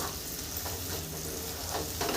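Spices for lau chingri (bottle gourd with prawns) sautéing in oil over low heat, a constant soft close sizzle with faint stirring scrapes.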